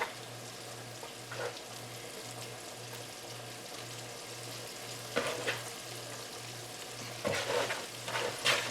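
Coated shrimp frying in grease in a full pan, an even, close sizzle with a few louder crackling bursts and stirring scrapes, no speech.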